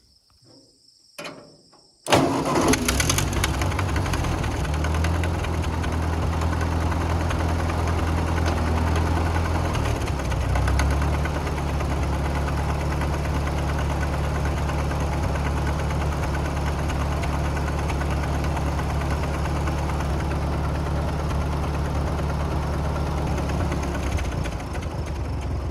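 A Ford 8N tractor engine cranks briefly, catches and settles into a steady, loud, low idle that runs on without a break, with no talking.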